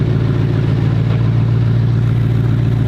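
Steady, loud car engine drone heard from inside the cabin, a continuous low rumble with slight revving and no pauses or voices.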